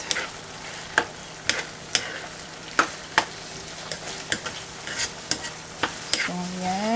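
Empanada filling of potatoes with pepper is stirred in a pan, a soft continuous sizzle punctuated by a regular series of crisp spoon taps and scrapes about every half second, ending with a short rising tone.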